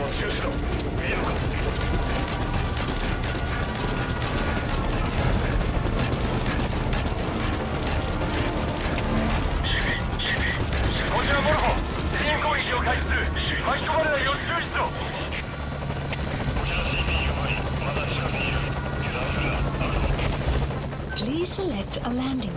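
A helicopter in Metal Gear Solid V makes a steady rotor and engine drone throughout, with mechanical clanks and game radio voices speaking over it.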